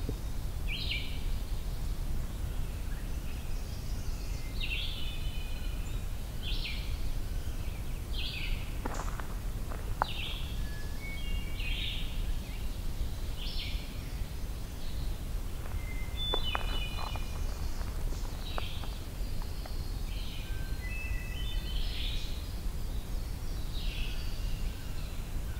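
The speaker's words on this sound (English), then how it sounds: "There was an oven bird briefly." An ovenbird sings in a woodland: repeated bright chirping phrases recur at a moderate distance over a steady low background hiss, with a few other faint bird notes mixed in.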